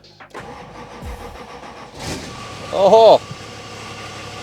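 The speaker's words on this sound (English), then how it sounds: "Let's get this key into this car and see if she fires up." A diesel Nissan Patrol GQ, off the road for 14 years, cranks briefly and fires, then settles into a rough idle with a louder rev surge near the end; someone speaks briefly over it.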